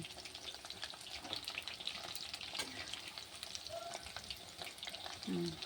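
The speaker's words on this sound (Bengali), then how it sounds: "একটু স্লো করে দিলেই এটা ভালো হবে ভাজা" Chicken pakora frying gently in oil over a low flame, a steady soft sizzle running throughout with faint stirring clinks.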